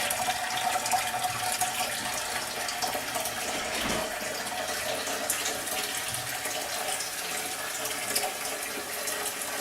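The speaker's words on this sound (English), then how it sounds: "About 1 inch of water goes into this before we put it on the stove." Tap water runs steadily into a canning pot for vegetable stock, a broad continuous hiss and splash at low pressure, fairly near and even throughout, with no talk over it.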